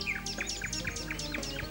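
Small birds chirp and tweet repeatedly on Lipsi, a Greek island, with quick high calls overlapping at close range over a low steady outdoor background.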